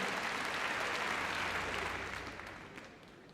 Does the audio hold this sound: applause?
yes